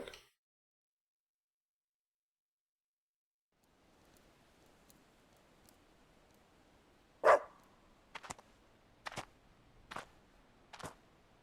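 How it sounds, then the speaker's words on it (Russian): A dog barks five times in sharp, fairly loud bursts about a second apart, after a stretch of near silence and over a faint, steady background hiss. "Молодец, собака. Хорошая собака."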